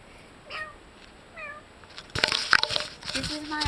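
A pet cat meows twice near the start, short rising cries, then someone talks over rustling and handling noise while a toy fishing pole is played with.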